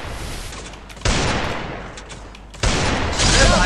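MP40 gunfire in the Garena Free Fire mobile battle game, two loud sustained bursts of rapid automatic shots, each starting abruptly and holding steady, with no talking.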